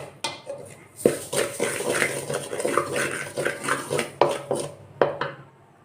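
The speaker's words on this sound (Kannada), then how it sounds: "ಇವಾಗ ಗಸಗಸೆನೂ ಕೂಡ ಅದೇ ಬಾಣಲಿಗೆ ಹಾಕ್ಕೊಂಡು ಹುರ್ಕೊತಾ ಇದ್ದೀನಿ" Poppy seeds roast in the same pan used for spices while making sambar powder, giving a steady stream of light scraping, stirring and metallic pan clatter with a few sharper knocks, close and fairly quiet, with no voices.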